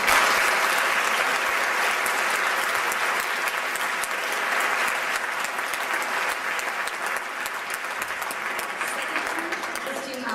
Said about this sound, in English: I'd like a big round of applause.